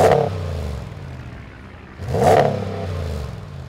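A lifted 2020 Ram 1500 fitted with an SCA Black Widow exhaust revs twice, each blip rising to a loud, raspy roar and settling back to a deep idle rumble, close by with no talk.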